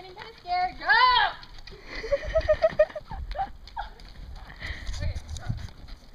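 A horse trots during an equestrian Simon Says game for kids, with a quick run of hoof clip-clops near the middle, then softer footfalls, under children's chatter and calls.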